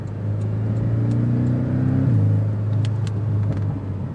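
A 2025 Porsche 718 Cayman S with 20-inch wheels cruises and slows in traffic, its exhaust giving a steady, close engine rumble with a drop in pitch partway through and faint popping burbles near the end.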